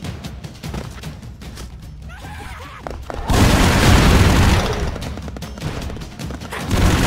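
A character blows himself up in The Expendables video game: scattered crashes and gunfire lead into a sudden loud, sustained boom that rumbles on, then fades slightly.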